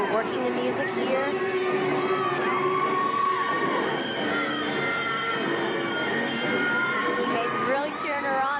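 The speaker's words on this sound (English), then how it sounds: "Teammates really cheering her on." Gymnastics teammates cheering and shouting encouragement for a gymnast during her floor routine at an Alabama at Auburn women's college meet, a continuous crowd of excited voices with whoops over music and arena murmur.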